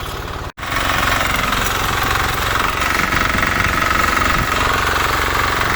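A walk-behind tractor engine hammers loudly and continuously while weeding a potato field, a harsh, rapid knocking drone up close, briefly cut off at the start before resuming at an even level.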